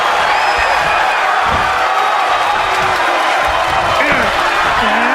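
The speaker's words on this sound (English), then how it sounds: "What a raucous crowd here tonight." Wrestling arena crowd at a live event, a dense continuous roar of cheering and whoops, loud and sustained, with an announcer's voice faintly mixed in.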